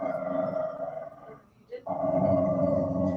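A dog howls and whines close by, asking to be fed: a long, loud, steady drawn-out cry that breaks briefly with a short yelp before resuming.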